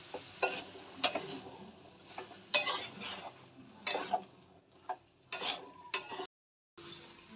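Boiled chickpeas stirred into frying spices, with rhythmic scraping and clinking of a spoon against the pan over a low sizzle and a brief gap of silence near the end.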